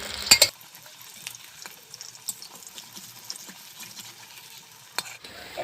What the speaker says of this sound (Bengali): এক পাশ থেকে উল্টো পাশে আমি উলট পালট করে ভেজে নেব।